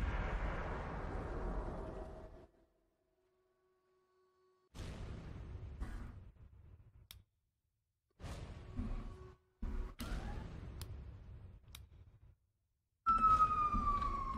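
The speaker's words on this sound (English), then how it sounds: "siren going by" A siren passes in bursts between stretches of silence, rising and falling tones with rumbling traffic noise, loudest near the end.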